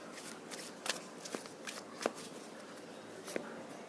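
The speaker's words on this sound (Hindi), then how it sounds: "Let me take one more card." Tarot cards shuffled and drawn, quick close slaps and riffles in a few distinct bursts over a faint steady background, with no speech.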